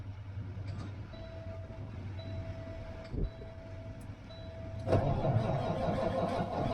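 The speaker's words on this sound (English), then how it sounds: "what are the odds of this guy starting? It's a pretty cold-blooded truck." A cold-blooded truck engine cranks repeatedly with a steady whirring starter drone, never catching, then a louder rougher cranking burst near the end.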